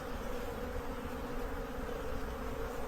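Honey bees swarm around hives in a small forest clearing, a steady dense buzz holding level and fairly close throughout, with no voices.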